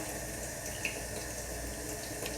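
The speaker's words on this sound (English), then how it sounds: "You always come over to your sink, cut the water on, and you pour this out." Tap water pours steadily into a kitchen sink, a continuous close rushing hiss with a faint splash midway, with no one speaking.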